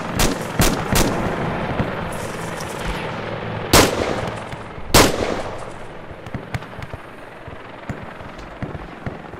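Gunfire in the Arma 2 military combat simulation game rings out as scattered sharp shots and a few heavy booming blasts, including a rocket launch, spread irregularly over a quiet background with no talking.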